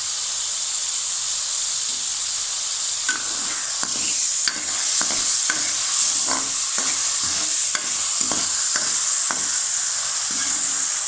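Onions and green chilies frying for chicken tikka karahi, a loud, constant hissing sizzle with a run of rhythmic spatula scrapes and taps against the pan, no voices.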